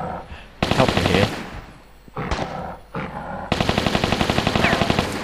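Automatic gunfire in the video game Tomb Raider III, loud rapid bursts of repeated shots separated by short pauses, with a longer sustained burst at the end.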